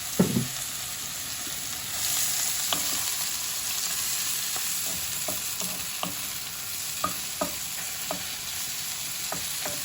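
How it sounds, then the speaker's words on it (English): Mushrooms frying in olive oil, a loud continuous sizzle with repeated close scrapes and clicks of a utensil stirring through the pan, no voices. "Those mushrooms don't take too much to cook. So I'll keep on stirring it."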